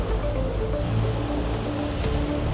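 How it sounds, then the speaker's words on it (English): Ocean swell and breaking waves heard from a sailing boat crossing a bar: a steady, close wash of surf and rushing water mixed with wind noise, continuous throughout with no talk. "Some sizable swell coming from behind, and that same swell I can see is breaking waves"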